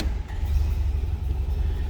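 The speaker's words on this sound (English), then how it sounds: "let's go ahead and fire this up" A 1946 Plymouth Special Deluxe Coupe engine running just after starting, a steady low rumbling idle close by with no voices.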